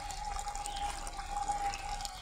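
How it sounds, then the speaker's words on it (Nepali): Water running from a tap at a Buddhist monastery, a steady continuous splashing flow heard up close with no talking. "गुम्बाको पानी हो धारा पानी हो धारा पानी हो।"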